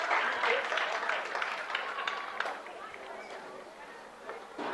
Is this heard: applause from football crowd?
yes